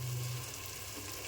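Garam masala and turmeric frying in a pan for pulao, a steady soft sizzle with a low hum underneath, close and continuous without voices.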